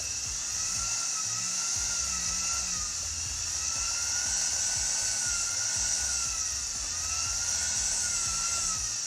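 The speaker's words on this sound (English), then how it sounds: "This is just a sandpaper disc that I'm using here." A sandpaper disc on a power tool sands a round repair piece carrying a design, giving a steady, continuous high whine with a grinding rasp underneath, sustained and fairly loud throughout with no talking.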